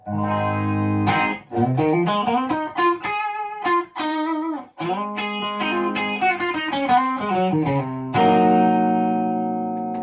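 Clean electric guitar on the bridge pickup, with no amp reverb, has a bright, twangy tone playing a melodic phrase of single notes and chords, alone, with brief pauses between phrases.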